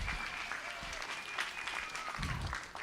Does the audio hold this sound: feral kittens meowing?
no